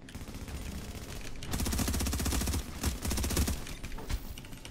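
A big gun in the video game The Division fires in rapid bursts of dense, repeated shots with brief pauses between volleys, loud and close.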